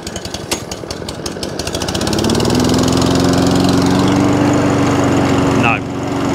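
A lawn mower engine with its choke on runs close and loud, rising from a rough start to a steady drone and then dipping slightly near the end.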